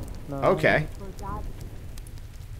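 Rain falling in the video game Dyscourse: a steady, soft patter and hiss running the whole time, briefly covered early on by a short spoken word.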